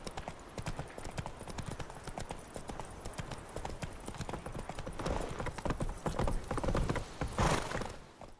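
Roach, the horse in The Witcher 3, gallops with rapid, rhythmic clip-clop hoofbeats that build in intensity, close and loud throughout, with a brief louder flurry near the end.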